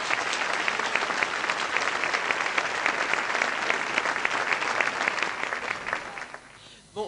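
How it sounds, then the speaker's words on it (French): An audience at an awards ceremony in La Réunion claps steadily and fairly loudly for a prize winner, and the applause thins out and fades near the end. "Vous pouvez l'applaudir bien fort."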